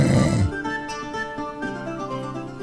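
A sleeping man snores loudly: a heavy, low rasping rumble at first, drawn out into a long, nasal, droning tone.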